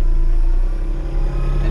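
A hydrostatic-drive tractor's engine drones loud and close as the machine pulls forward, a steady low rumble with a slight swell partway through and no voices.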